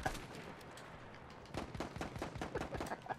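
Rapid gunfire crackles through a Battlefield 1 match, bursts of shots stacking into dense, loud volleys that intensify sharply halfway through, with overlapping automatic fire and scattered single cracks.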